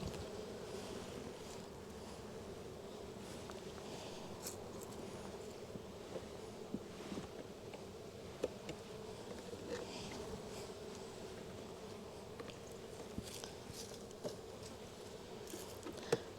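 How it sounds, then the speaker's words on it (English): Honeybees shaken off hive frames while a hive is broken down for winter make a steady, dense buzzing drone that continues unbroken, with faint knocks and handling noises scattered through it and no talk. "it's just pretty much shaking the rest of the bees"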